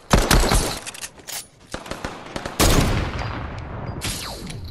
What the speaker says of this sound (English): I'm getting shot at by someone